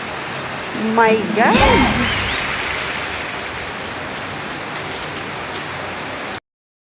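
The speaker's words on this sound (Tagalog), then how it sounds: "Ang lakas ng ulan." Heavy rain roars in a dense, constant wash of noise, close and loud, while a person briefly exclaims near the start.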